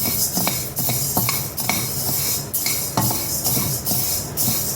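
Black urad dal being dry-roasted and stirred continuously in a hot pan, with a steady run of rattling scrapes and clinks of the ladle against the pan, close and fairly loud, no talking.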